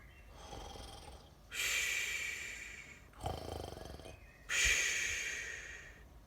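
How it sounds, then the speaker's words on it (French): Snoring from a sleeper in a read-aloud children's story, heard as three loud, drawn-out rasping snores with breathy pauses between them and no talk over them. "Ça ronfle au fond d'un trou."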